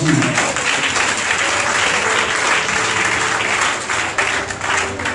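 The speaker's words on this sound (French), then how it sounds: "Je veux que tu acclames pour ce que je viens de dire." Audience at a religious sermon breaking into dense, sustained applause, loud and steady with many hands clapping throughout.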